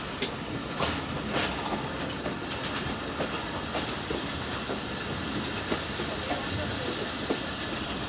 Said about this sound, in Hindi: दोनों लूप लाइन पे स्लोली क्रॉस बहुत ही कम स्पीड में